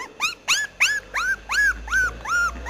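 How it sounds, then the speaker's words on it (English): A dog whimpers and yips in a run of seven rising-falling cries, evenly spaced and fairly close, with no talk over them. "Shut up, dog!"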